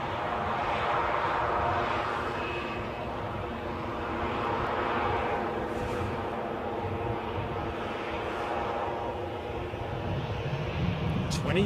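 A Loganair plane, partly hidden behind bushes at Edinburgh airport, produces a steady moderate engine drone that swells and eases slightly without any talk.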